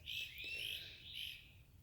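Birds chirping outdoors, bright high tweets and trilled phrases repeating in bursts, moderately faint and alone with no talking.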